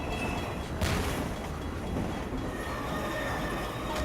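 A rumbling train in a video game rolls past with a steady, dense mechanical roar, faint clanks and a brief bright screech, fairly loud and continuous throughout.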